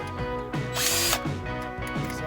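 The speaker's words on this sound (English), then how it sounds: "Just keep drilling." Close and steady, a power drill bores through plastic during a combine repair, a continuous motor whine with periodic grinding catches and a brief louder burst of the bit biting in, with no talking.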